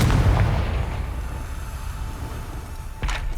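Confringo fire spell blast in Hogwarts Legacy: a loud, low booming explosion that rumbles and decays over a few seconds, followed by a second sharper burst near the end.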